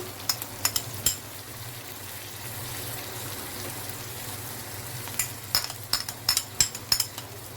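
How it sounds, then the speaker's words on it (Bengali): Dried Bombay duck fries with onion as garlic paste goes into the pan, producing a soft, steady sizzle punctuated by sharp clusters of spatula clinks against the pan. "আমার শুটকিটা পেঁয়াজের সাথে খুব সুন্দরভাবে একটু ভাজা হয়ে গেছে। তাহলে আমি এখন দিয়ে দিচ্ছি আপনার রসুন বাটা"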